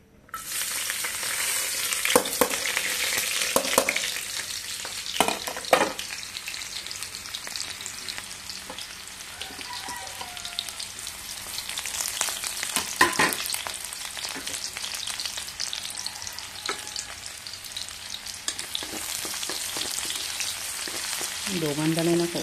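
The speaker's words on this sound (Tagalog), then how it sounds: "gisa muna natin yung ating mga ricado" Garlic and red onion sautéing in oil in a pan, a loud steady frying sizzle lasting throughout, broken by repeated stirring scrapes and clicks.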